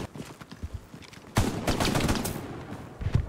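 Machine gun fire in the World War II shooter Hell Let Loose, with rapid bursts of close, loud gunfire that swell into a dense barrage, then scattered further shots.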